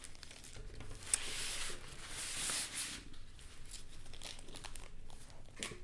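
Plastic sheet crinkling and rustling as it is handled over an adhesive canvas, a steady close crackle with a brief louder tear-like burst midway, fading to softer handling noise.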